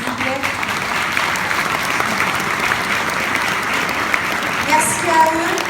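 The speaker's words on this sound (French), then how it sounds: "On peut les applaudir encore une fois s'il vous plaît." Sustained applause from an audience after a musical performance at a town mayor's New Year greetings ceremony, steady dense clapping filling the room throughout, with a few faint voices and a brief tonal sound near the end.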